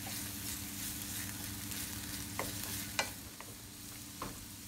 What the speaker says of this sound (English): Add oil, saute minced garlic for a while.